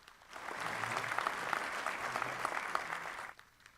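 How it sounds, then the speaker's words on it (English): Moderate applause from a small audience at a county candidate forum, rising quickly, holding for a few seconds, then fading out, with faint voices underneath. "give them a round of applause for coming and answering our questions tonight"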